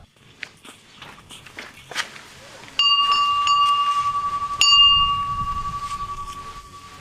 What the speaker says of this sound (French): nous allons sonner la cloche